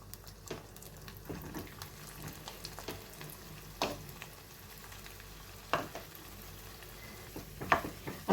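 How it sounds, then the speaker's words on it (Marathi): Grated potato sautéing and being stirred in a pan for a fasting-day potato sheera with raisins, a soft steady sizzle broken by repeated scraping strokes of the spoon, close and moderate in level. "सतत हलवत आता हा बटाट्याचा जो खीस आहे किंवा लगदा आहे तर तो आपण छान परतून घेऊया"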